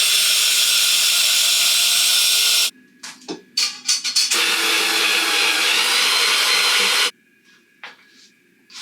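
A power drill whirs in long, loud continuous runs on a cabinet door, with brief stuttering pauses and a final stop, close to the listener.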